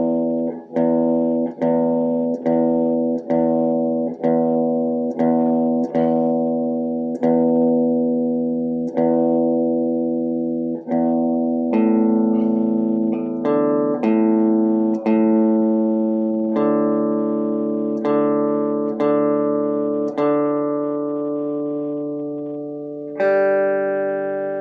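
An acoustic-sounding stringed instrument, tuned for a coffee-house style blues song, gets repeated single plucks that ring out one after another, each note decaying, the pitch stepping and shifting across the sequence as it is brought into tune.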